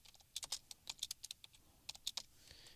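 Quiet computer keyboard typing in uneven bursts of light key clicks, close and soft, with brief pauses between the runs of keystrokes as code is written.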